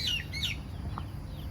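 Chickens, including two with swollen eyes, chirp and cluck faintly in short high calls from a coop over a low steady background hum.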